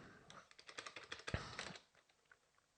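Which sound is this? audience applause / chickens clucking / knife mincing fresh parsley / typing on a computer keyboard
typing on a computer keyboard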